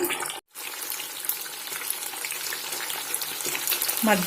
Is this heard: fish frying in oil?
yes